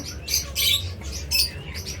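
A pair of cockatiels in a breeding box gives repeated short, bright chirps in quick bursts close at hand. Soft low rustling and background hum sit under the calls.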